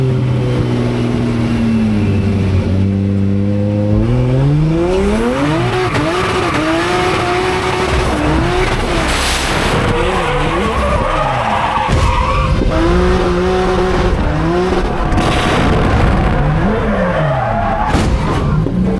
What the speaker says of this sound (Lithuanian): Tai varom raižyti pirmų ratų